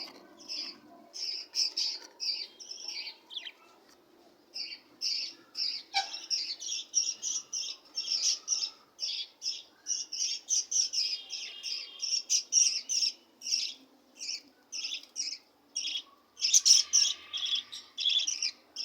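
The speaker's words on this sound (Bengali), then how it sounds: "আর এখানে এক পেয়ার বাজিগার পাখি আছে।" A pair of budgerigars chirping nearby, busy rapid bursts of high twittering repeating throughout with short pauses, no talk.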